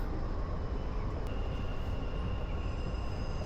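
Continuous loud rumble of a moving train in Dubai, UAE, heard from inside a carriage, a dense roar with a faint high whine and a brief squeal.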